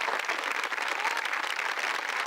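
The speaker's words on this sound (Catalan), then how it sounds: "aquests aplausos, aquests aplaudiments, que no fallin" Steady audience applause at a Ballada de Gitanes folk dance performance in Parets del Vallès, even continuous clapping heard from a slight distance for the whole stretch.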